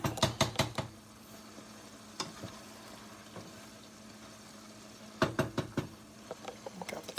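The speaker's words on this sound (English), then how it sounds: "Let's keep on stirring." A spoon clacks and scrapes against a pot of simmering pork and chicken adobo, quick rhythmic bursts of stirring at the start and end with a few isolated knocks in between over a low background hum.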